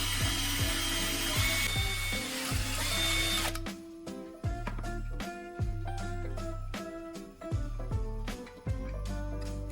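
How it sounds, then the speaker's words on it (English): A small power drill whirs in short bursts through the lower section of a plastic bottle, starting and stopping repeatedly, with a higher-pitched hiss at first then steady motor whine. "I choose a position near the lower section of the bottle and carefully drill a hole"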